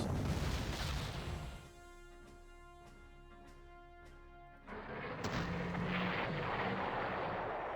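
Heavy artillery fire in a World War II strategy game, a loud rumbling barrage with sharp booming bursts over a continuous low roar, easing briefly in the middle before swelling again.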